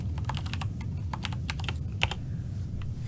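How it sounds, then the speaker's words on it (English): Rapid typing on a computer keyboard, irregular clusters of crisp key clicks with brief pauses, close and steady over a low room hum, with no voices. "What you typing there, fella?"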